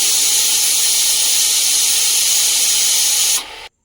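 A pressure cooker boiling lentils lets out a loud, continuous steam hiss with a whistle for several seconds, close and steady, then it tapers off and cuts to silence.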